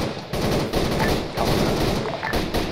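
Dense, continuous automatic gunfire in a military video game, loud and close, with a few brief gaps between sustained bursts.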